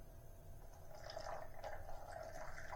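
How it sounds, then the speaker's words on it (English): Water is poured through a funnel into a pipe system fitted with nipples and an elbow, a quiet, steady trickle and fill sound that grows slightly over a low hum. "we pour a little water down to mix it"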